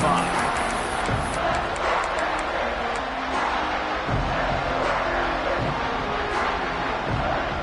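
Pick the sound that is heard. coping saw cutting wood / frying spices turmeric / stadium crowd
stadium crowd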